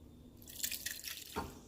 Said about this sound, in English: so I will strain this